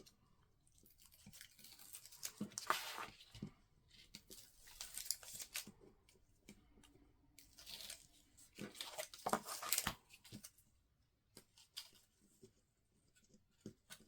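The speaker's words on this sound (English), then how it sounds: "I'm going to peel all that backing off" Backing peeled off adhesive tape on a 6x8 album and accordion spine, quiet intermittent tearing and crackling strips in several separate bursts with pauses between, close and soft.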